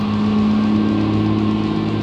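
A loud, obnoxious truck engine rumbles nearby with a deep, steady droning growl that holds constant for a couple of seconds, with no one talking.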